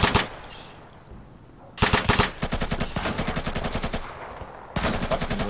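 Bursts of automatic gunfire from the shooter game Insurgency hammer out in rapid, loud volleys, with a short gap between strings of shots and no voices.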